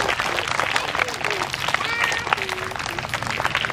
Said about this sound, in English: So I want everyone to clap for them.